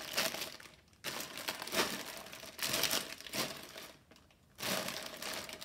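Plastic bags of Lego Technic parts for a car transporter set crinkling and crunching in bursts, close and fairly loud, with short quiet gaps between handlings.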